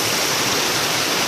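River water rushes steadily near a waterfall, a loud broadband hiss and roar that stays unchanged throughout, close by and with no talking.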